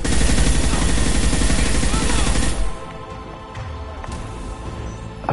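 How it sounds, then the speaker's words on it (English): Upgraded assault rifle fire in Mass Effect 2, a loud, rapid sustained burst of automatic shots for a couple of seconds, then cutting off into quieter scattered game sounds. "I was putting hundreds of bullets into his skull"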